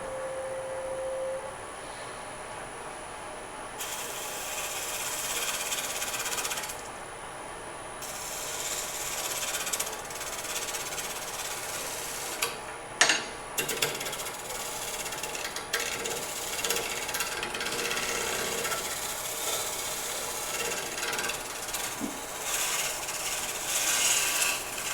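A turning tool cuts wood on a lathe while shaping a wooden mushroom, throwing off shavings with a continuous rasping scrape over a steady high motor whine, plus a few louder knocks midway; nobody speaks.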